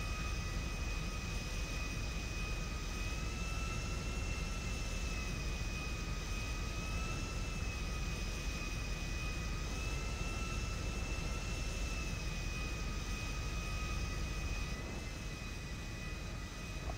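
Jet airplane engine in GTA Online, a steady roaring whine with sustained high tones, constant and fairly faint throughout, with no talk over it.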